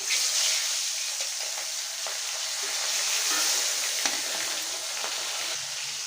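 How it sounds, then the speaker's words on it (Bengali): Fish frying in hot oil in a wok gives off a steady bright sizzle at moderate volume, with a few small pops and crackles and no voices. "এখন আমি মাছগুলো ভেজে নেব।"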